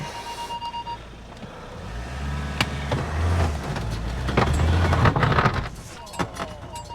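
A car engine labours and revs while reversing up a slope, tyres scrabbling with crunches and knocks, steady and close, with no talking.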